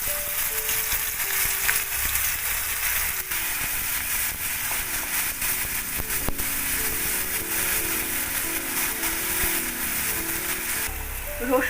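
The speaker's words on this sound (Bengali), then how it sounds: "সেই তেলেই আমি কালো জিরে ফোড়ন দিলাম, ওতে একটু নুন দিয়ে দিলাম, দিয়ে এতে আমি রসুন দিয়ে দিলাম" Garlic with nigella seeds and a pinch of salt frying in hot oil, a steady close sizzle that runs unbroken throughout, with occasional faint stirring.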